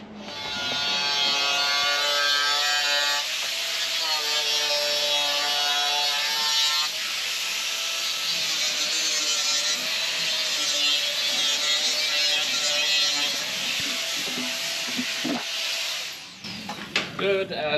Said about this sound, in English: I'll bring the grinder down here.